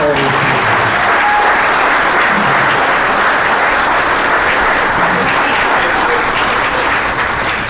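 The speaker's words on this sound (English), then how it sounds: "How about a nice round of applause for all of you?" An audience at a high school sports hall of fame induction ceremony gives a loud, sustained round of applause that fills the whole clip without a break.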